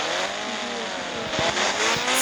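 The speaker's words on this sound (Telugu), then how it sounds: "ఇప్పుడు మనం బైక్ స్కిడ్ చేద్దాం." A motorbike in a video game revs and skids, its engine whine steady and loud throughout, with short low-end bursts near the end suggesting tyres sliding.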